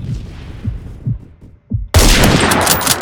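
A single loud sniper rifle shot in the video game Phantom Forces rings out sharply after a few quieter thumps, followed by a sustained noisy tail.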